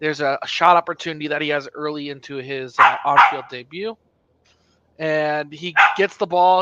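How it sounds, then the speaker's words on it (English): A dog barks in the background in a few short, yappy bursts, mostly buried under steady nearby speech about a soccer match. "please excuse the dog"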